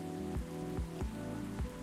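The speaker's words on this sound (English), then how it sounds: "It's pouring rain again." Steady pouring rain from the video game Coffee Talk 2, a continuous wash of patter with a few soft thuds, set against tonal background music and no talking.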